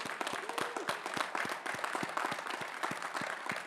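Steady, dense applause from a large crowd at a 2021 Northeastern University commencement ceremony, many hands clapping continuously and evenly throughout with no voices over it.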